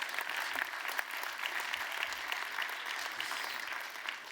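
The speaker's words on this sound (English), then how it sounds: "I think that was your well-deserved applause for a job very well done here on day one" An audience at a European employment and social rights forum applauds steadily, a dense, even clapping that fills the whole moment without voices over it.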